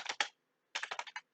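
Two quick bursts of clicking keystrokes on a computer keyboard, close and crisp with a short pause between them, while numbers are entered into an arithmetic average program.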